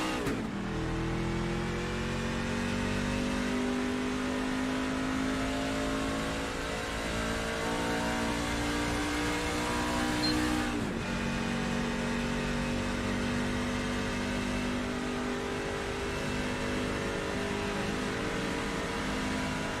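A race car engine in the iRacing sim drones steadily at high revs on the Talladega oval, loud and close, with a brief dip and shift in pitch midway before holding again.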